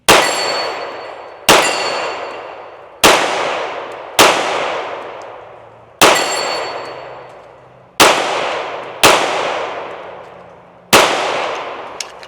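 A Springfield Armory Echelon 4.0C pistol fires eight loud, evenly spaced single shots outdoors, each a sharp crack followed by a long ringing decay, with no talking.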